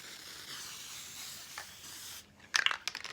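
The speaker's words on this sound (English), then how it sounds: "Temporary adhesive spray" A can of temporary adhesive spray hisses in a long steady burst that tapers off, then a pause and a few short, sharp spray bursts close by.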